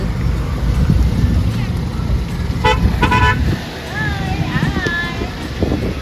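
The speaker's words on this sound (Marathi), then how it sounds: "तुम्ही बघू शकता आमची गाडी पण आता आलेली आहे" A family car arrives near a Konkan boat crossing, giving a couple of short horn toots midway over steady traffic and wind rumble, with voices talking in the background.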